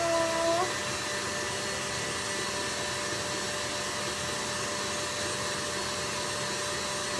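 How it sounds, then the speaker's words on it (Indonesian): An electric mixer whirs steadily at a constant loud level while durian cream puff filling is being made, a continuous motor drone with no talk over it. "sekarang ni mixer tengah on"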